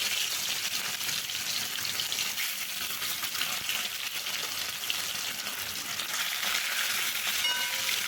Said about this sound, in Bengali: সর্ষের তেলটা গরম হয়ে গেলে এর মধ্যে আমি আগে থেকে নুন হলুদ দিয়ে মেখে রাখা মাছগুলো